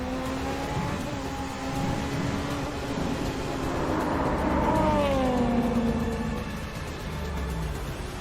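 A 2021 Nissan Patrol Nismo full-size SUV approaches with a rising engine drone and a rushing swell of road noise that peaks mid-clip and then eases, heard alone without voices.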